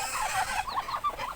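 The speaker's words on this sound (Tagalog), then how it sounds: "Ang dami niyang sisiw!" Hen and a brood of many chicks on a mountainside farm, with soft repeated clucks and high chirping peeps rising and falling close by, with no talking.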